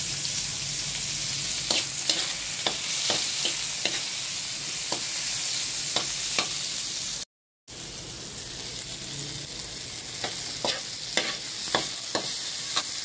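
Garlic and tomatoes sauté in a hot pan, a steady close sizzle broken by repeated scraping stirs, with a brief dropout midway and no talking.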